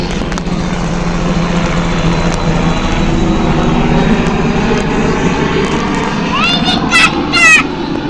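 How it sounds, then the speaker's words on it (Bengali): A helicopter flies overhead in hilly country with a steady, droning engine and rotor hum, while people talk nearby and a few bird chirps come through near the end. "হেলিকপ্টার দেখা যাচ্ছে বন্ধুরা।"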